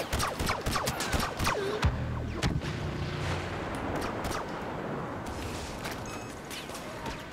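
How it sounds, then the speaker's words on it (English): Grenade blasts in the Star Wars Battlefront (2015) video game, a string of muffled booms and crackling gunfire-like bursts at moderate level with no talking. "Just chuck some nades at them."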